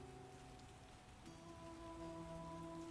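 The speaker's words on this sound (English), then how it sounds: "Dude, it's rain." Rain falling in The Witcher video game, a soft steady patter spread across the scene beneath sustained musical tones, with no talk.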